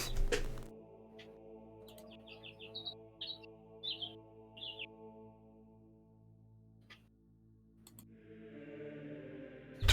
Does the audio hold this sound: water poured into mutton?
no